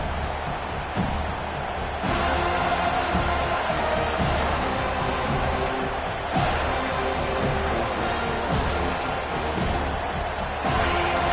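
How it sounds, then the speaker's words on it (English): Stadium crowd in the college football video game NCAA 25 roaring continuously, a dense loud wash of cheering with occasional sharp claps and thuds rising above it, steady throughout. "This crowd bringing an ear-splitting welcome to their visitors."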